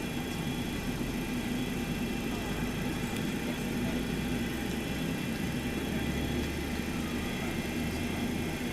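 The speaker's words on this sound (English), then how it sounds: "We'll monitor this one, proper engine start" A steady low whir and rumble from a Boeing 737-200 engine spinning up during start, heard from inside the cockpit in a flight simulator, even and unbroken throughout.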